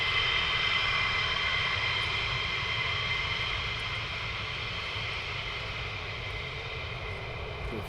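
Military jet aircraft taking off at RAF Lakenheath in cold weather, a loud, steady broadband engine roar that holds throughout and fades only slightly toward the end.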